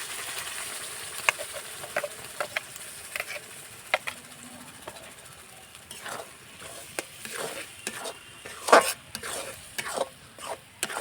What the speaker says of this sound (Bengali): এখন ভালো করে নেড়ে শুকিয়ে নেব এই রসটা।